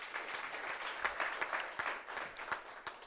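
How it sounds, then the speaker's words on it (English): Steady audience applause at a municipal customer services gathering, many hands clapping in a dense, even wash for the whole stretch, moderately distant with no talk over it. "let us give him a round of applause"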